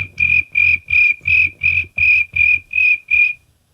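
A person imitates crickets with their voice during a podcast, producing nine evenly spaced, shrill chirps in a steady rhythm. The chirps are loud and close, with no other sound around them.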